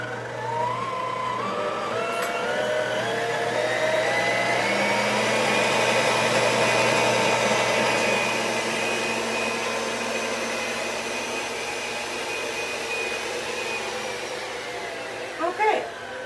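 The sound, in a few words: electric mixer running on high speed mixing cookie dough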